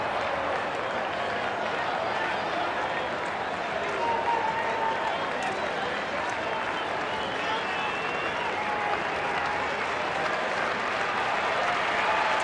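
A baseball stadium crowd at a 2008 Indians game cheers and applauds in a sustained, loud roar that holds steady throughout, with many fans on their feet and faint broadcast voices mixed into the din.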